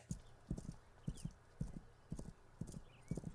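Horse hooves clip-clopping at a steady walking rhythm in paired beats, faint and distant, from the film Seabiscuit.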